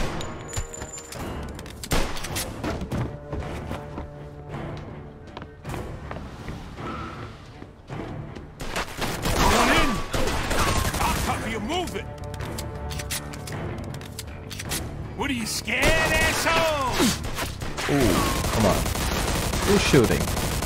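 Sustained gunfire in a Mafia 2 Definitive Edition shootout near a distillery, with dense bursts of rapid shots and machine-gun rattles that keep coming loud and close, with characters shouting over them.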